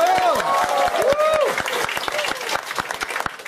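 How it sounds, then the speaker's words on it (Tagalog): Audience applause swells into dense rapid clapping with cheering voices on top, then eases into thinner scattered claps. "Malakas na palakpak for Miss Raquel Falsis."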